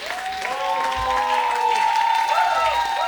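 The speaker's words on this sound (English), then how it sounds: "Yeah, you can clap" A crowd applauds and cheers for a young speaker at a political-style address. The sound is a dense, sustained wash, with voices mixed in.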